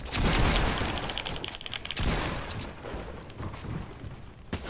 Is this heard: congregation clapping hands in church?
no